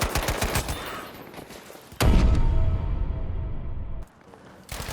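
Rapid suppressed gunfire from the video game Battlefield V, a burst of muffled shots followed by louder, denser game action and a sudden cutoff, loud and close with no talking.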